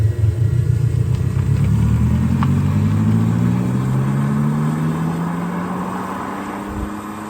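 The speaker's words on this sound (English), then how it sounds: "you may notice that that sound becomes deeper and throatier with some spirited driving" An Abarth 600e electric car under spirited driving plays its simulated engine note, a loud, deep, throaty drone whose pitch sweeps upward steadily like a revving engine gaining speed, holding strong throughout with no talking.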